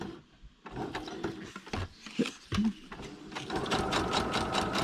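A sewing machine stitches through paper with a rapid, close mechanical chatter that starts in short stop-and-go runs and settles into a steady run.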